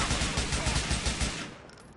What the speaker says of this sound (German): Ich schieß mal auf die Karre.